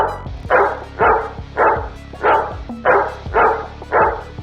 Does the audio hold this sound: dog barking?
yes